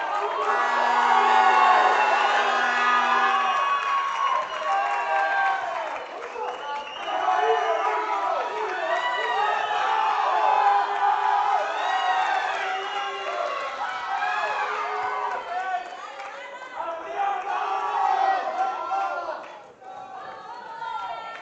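At a powerlifting championship, a crowd cheers and shouts loudly in rising waves for a lifter attempting a personal best, with chanting voices and whoops sustained for about twenty seconds before fading.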